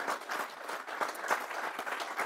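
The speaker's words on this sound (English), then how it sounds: "Yes, you can clap." A crowd claps at a worker roundtable on fair labor standards, giving moderate, continuous applause with no talk over it.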